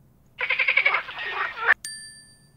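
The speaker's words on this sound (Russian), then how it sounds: "Покажи лягушку. Она квакает." A frog's croak, likely from a children's learning game, comes as a pulsing, rattling call of about a second and a half, then a bright ringing chime with no background noise.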